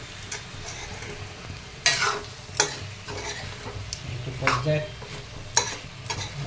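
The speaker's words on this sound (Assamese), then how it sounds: "আমি ইয়াক যে খুব লৰাম মানে ভাজিম" Marinated pork fries in a pan with a steady low sizzle, punctuated by sharp scrapes and clacks of a spatula stirring the meat at irregular intervals.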